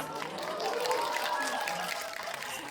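A theater audience at a film guest-visit event with actors and a director applauds in a steady, continuous wash of clapping, with a voice talking faintly over it.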